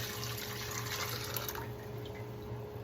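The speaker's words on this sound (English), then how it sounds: "we're going to dump our cooking liquid into it" Cooking liquid pours steadily into a saucepan over high heat in a kitchen, a continuous close splashing and gurgling that eases slightly toward the end.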